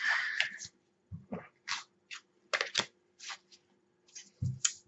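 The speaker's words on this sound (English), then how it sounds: "Focus on your question while I shuffle the cards" Tarot cards are shuffled in several short, crisp bursts of riffling and sliding, close up, with brief quiet pauses between them.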